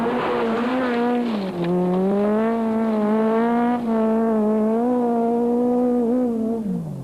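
A rally car driven hard on a dirt stage screams close by at high revs, with the engine note rising and dropping through several gear changes in a sustained, loud run.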